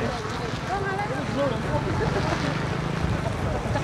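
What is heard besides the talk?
strong wind outdoors while flying a kite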